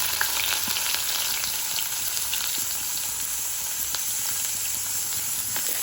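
Onions sizzle in a pan for a vegetable curry, a steady, bright frying hiss close up with occasional small pops and crackles, continuous throughout with no talk.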